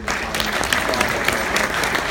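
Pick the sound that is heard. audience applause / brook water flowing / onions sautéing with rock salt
audience applause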